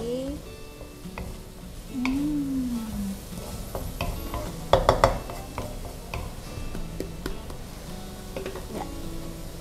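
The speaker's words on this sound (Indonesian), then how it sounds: "Kita aduk lagi." Food frying in a pan is stirred, producing a close, continuous sizzle with scraping strokes and a quick cluster of sharp clinks midway.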